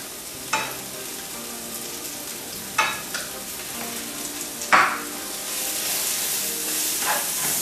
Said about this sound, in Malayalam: സവാള ചേർത്ത് നല്ലപോലെ ഒന്ന് വഴറ്റി കൊടുക്കുക